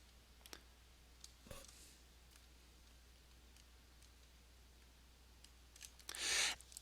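A computer mouse clicking on a web page: a few sparse, faint, sharp clicks spaced over several seconds in a quiet room, ending with a brief louder rustling burst.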